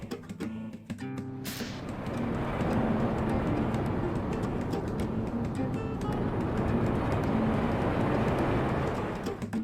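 A subway train in the video game GTA III rumbles steadily along the tracks, a loud continuous rolling roar with rattling that begins after a brief onset and holds for several seconds.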